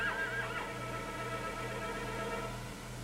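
A horse neighs, a loud, shrill whinny at the start that trails off into a long wavering call over steady background hum, with no speech.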